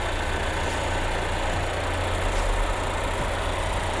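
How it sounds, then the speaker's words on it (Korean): A Volvo XC40 T4 engine idles with a steady, low rumble and a constant hum, unchanging throughout with no voices. "엔진 소리 일정하네요."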